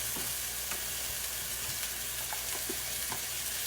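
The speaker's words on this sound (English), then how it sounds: "Now we're going to add in some garlic, just a good spoonful like that." Spoonful of garlic added to sautéed onions in a pan, giving a steady, dense sizzle with faint spoon taps and stirring scrapes scattered through, close and low in level.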